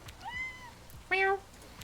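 A cat gives two distinct meows, a drawn-out one followed by a shorter, brighter one, heard faintly and fairly close against a quiet background.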